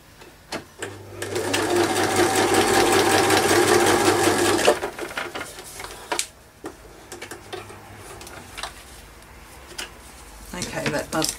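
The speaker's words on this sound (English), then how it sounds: "I'll just snip it, sew it up a bit shorter." A sewing machine stitches through a paper doll craft piece in a steady, loud run for several seconds, then stops, followed by quieter handling sounds and brief talk nearby.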